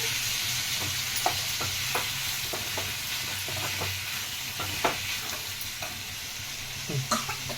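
Tomato is stirred into a frying masala for Uttarandhra-style mutton pulusu: a constant hiss of oil under repeated scraping spoon strokes against the pan, coming in irregular bursts, closer and louder toward the end.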